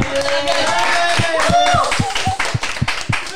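Hand claps from a podcast studio crew, a run of sharp, fairly even claps at close range that loosen toward the end, over a steady background hum and faint tonal sounds.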